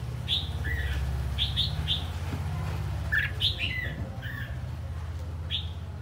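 Red-whiskered bulbul calling in short bright chirps and whistled notes, scattered repeatedly across the span over a low steady hum, with a voice talking in the background.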